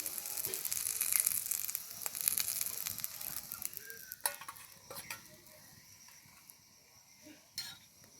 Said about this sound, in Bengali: এই দেখো, মাছের ডিমের বড়াটা খুব ভালোভাবে ভেজে নিয়েছি।